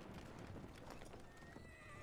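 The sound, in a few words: horse galloping in a video game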